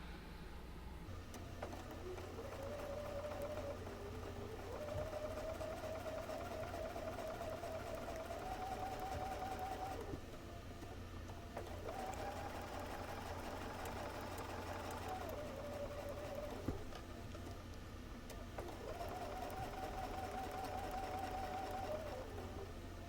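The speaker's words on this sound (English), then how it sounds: "And start sewing again using that scant 1/4 inch seam allowance." A sewing machine stitching a quilt block with a scant quarter-inch seam, whirring steadily in three long runs with brief pauses between, close and continuous over a low background hum.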